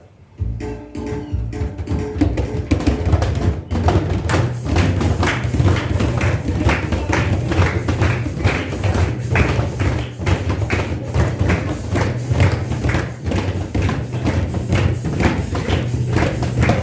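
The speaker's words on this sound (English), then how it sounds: "This time we're gonna do a boom beat. now faster." Drummers at the Colombia pavilion at Expo 2020 Dubai playing a fast boom beat, dense loud repeated thuds and taps in a driving rhythm that runs steadily throughout.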